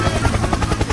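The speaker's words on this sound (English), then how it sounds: "Helicopter!" Helicopter in the Blox Fruits video game, a steady loud rotor chop with a low thumping beat held close throughout a brief moment.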